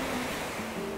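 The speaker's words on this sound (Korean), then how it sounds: "파도" Steady rushing wash of ocean waves on the shore in Animal Crossing: New Horizons, a continuous broadband surf noise with a faint tonal hum underneath, no speech.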